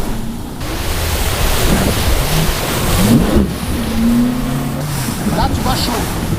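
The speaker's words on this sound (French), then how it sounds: "Tu vois, gros déferlement." Heavy open-sea swell breaks close beside a sailboat offshore, a loud roaring surge of surf mixed with wind buffeting on the microphone and a low engine hum, with voices talking over it.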